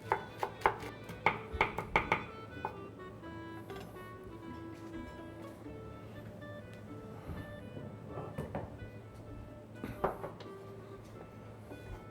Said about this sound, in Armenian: Շատ մանր կտրատված։